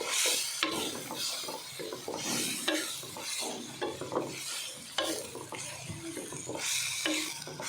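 Tomatoes are stirred into chicken ginger in a pot, with close scraping and clacking strokes of a spoon over a low sizzle, irregular knocks repeating throughout.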